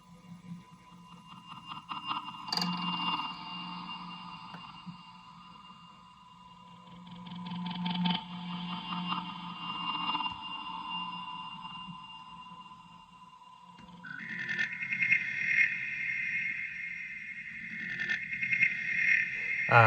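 DIY piezo noisebox run through effects pedals and a micro looper, producing looping chirps, pulsing tones and layered electronic textures that swell and shift over a steady low hum, with no talking.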